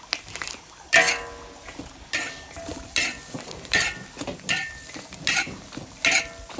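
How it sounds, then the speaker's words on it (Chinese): Vegetables being stir-fried in a wok in a Miao village kitchen, with repeated scraping and clinking strokes of the spatula against the pan over a soft, steady sizzle, about seven strokes in the span. "我今天要炒6个菜"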